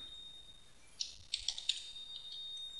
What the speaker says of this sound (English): I'm just going to type in